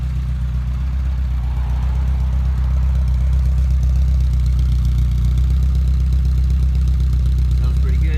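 A 1973 Ford Cortina GT replica runs at a steady idle through a non-original exhaust back box, a loud, close, deep rumble that holds evenly throughout.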